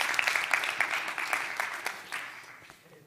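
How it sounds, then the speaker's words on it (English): Closing applause from the audience at the end of a TEDx climate conference at Wageningen University, a full round of clapping that starts strong and gradually thins and fades toward the end. "I'm going to leave you with the biggest round of applause, which is for you guys, because you made this happen."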